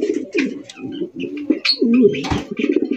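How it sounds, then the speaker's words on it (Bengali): Large Baghdadi pigeons in a loft coo one after another, close and loud, with overlapping throaty rolling calls and a few brief chirps between them. "প্রত্যেকটা কবুতর একের পর এক ডাকাডাকি করতেছে"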